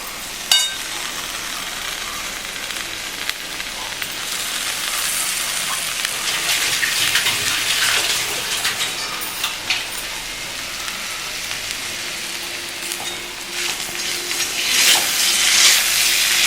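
Tomato sauce hitting a hot pan over lowered heat while making chilli chappathi, giving a steady close hiss and sizzle with faint stirring scrapes throughout, no voices.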